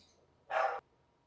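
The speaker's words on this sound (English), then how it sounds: "Can hear your dog." A dog barks once, a single short sharp bark heard faintly in the background of an online call, with no talking in between.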